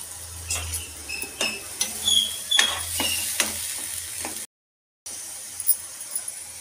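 Chopped onions going into hot oil for a masala kabuli chana curry, giving a steady sizzle with scattered stirring and utensil clinks, close and moderately loud, then a brief dropout before the frying resumes.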